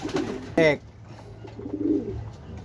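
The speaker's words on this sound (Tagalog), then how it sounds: "Ayun na yung mga ibon natin, lumayo na." Racing pigeons coo softly in a loft after a 135 km training flight, low burbling calls nearby, interrupted by a brief sharp squeak or whistle, with faint voices around.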